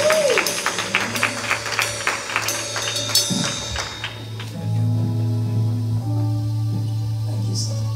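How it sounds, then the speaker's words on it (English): A church congregation claps hands at a Father's Day service, scattered rhythmic claps in the first half, then sustained organ or keyboard tones take over while clapping thins out. "clap your hands for our young kings"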